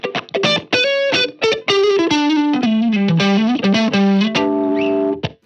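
An electric guitar played through a Prince of Tone overdrive pedal, with a run of picked notes and sustained chords carrying a warm, driven, slightly gritty tone, loud and alone.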